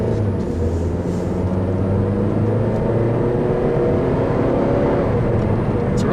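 Steady low engine drone and broadband road roar fill the cabin of a moving 2010 Mazda 3 S Grand Touring with its 2.5-liter four-cylinder, a constant noisy hum with no talking.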